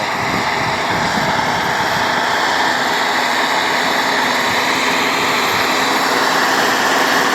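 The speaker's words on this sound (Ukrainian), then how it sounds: "Двигло працює." A tractor engine labors while plowing a furrow, a loud, close, continuous drone that holds steady from start to end with no talk over it.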